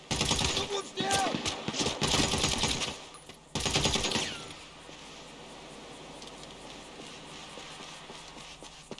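Rapid automatic gunfire from a shootout in GTA 5 Online, with dense loud bursts of rattling shots in quick succession followed by a quieter stretch of ambient noise and faint movement.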